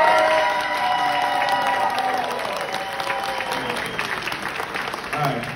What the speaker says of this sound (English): just want to take a quick video of everyone giving Devin Ari a round of applause